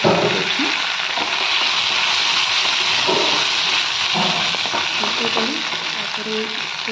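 Spices sputter loudly in hot oil in a pan as a tempering, a dense continuous sizzle with faint stirring clatter underneath.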